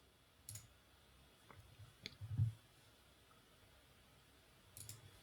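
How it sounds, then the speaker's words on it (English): A single computer mouse click, faint and isolated, with a low quiet hum and a few other soft ticks around it while setting up a ShareFile account. "So we're going to go ahead and click this."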